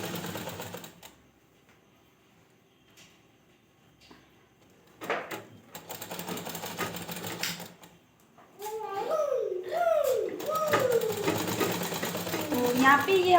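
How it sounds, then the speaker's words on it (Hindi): A sewing machine stitches a Rabari sadlo garment, running in bursts with pauses between them, while someone talks over the later stitching. "और इस तरह से मुझे यहाँ पे सिलाई लेनी है।"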